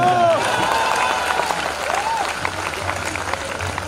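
Audience at a Hindi poetry gathering (kavi sammelan) applauding the poet, a dense burst of clapping with crowd murmur and some brief voiced sounds over it, steady throughout.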